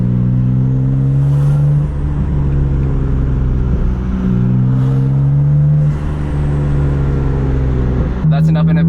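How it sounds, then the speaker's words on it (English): A BMW M3/M4 fitted with a Maad Maxx exhaust, catless downpipes and a single mid pipe, engine droning loud and close at low RPM with smooth rising harmonics, brief dips between pulls and a sharper rise at the end. "Anything like under 2K RPM, the turbo spool is just crazy."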